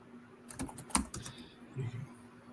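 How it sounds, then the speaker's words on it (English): A short burst of keyboard typing, several quick clicks and taps in a row, fairly close, with no speech. "I hear you typing"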